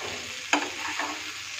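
Pumpkin and potato curry being stirred in a pan, a soft steady sizzle with one sharp scrape of the spoon midway and a fainter second scrape, close and alone with no talking.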